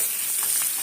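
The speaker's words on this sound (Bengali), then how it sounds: "এইভাবে আলুটাকে সুন্দর করে ভেজে তারপরে তুলে নেব" Potato frying in a pan for a Jamai Shashthi morning tiffin, a steady close hiss of sizzling oil with soft bubbling pops, quiet and alone.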